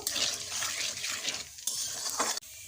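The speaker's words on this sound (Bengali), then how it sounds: "গোটা শুকনো লঙ্কা দিয়ে দেব জিরে ফোড়নগুলোকে ভালোভাবে ভেজে নেব" Whole dried red chillies, bay leaf and cumin are fried as a tempering for ghugni in a pan. A close, fairly quiet crackle and hiss carries light utensil clinks, and the sound breaks off abruptly near the end.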